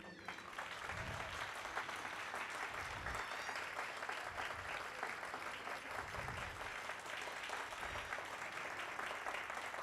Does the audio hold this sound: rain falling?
no